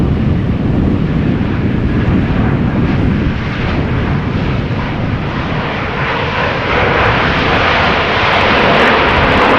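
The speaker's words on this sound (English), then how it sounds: "EasyJet is the next airplane." EasyJet Airbus A320neo airliner at Amsterdam Schiphol Airport in stormy weather, a loud continuous jet engine roar that swells toward the end, with wind buffeting the microphone.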